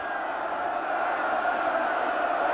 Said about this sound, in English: the crowd yelling for Bill McCartney and the Buffs to go for it on 4th down